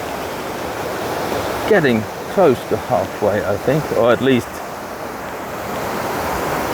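A mountain river in the Pyrenees rushes in a steady, continuous wash of close water noise, with a person talking briefly over it partway through before the flow carries on alone.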